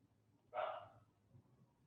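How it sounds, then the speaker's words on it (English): One short, faint bark from a dog somewhere in the distance, over a quiet low room hum. "Apologize for my dog barking."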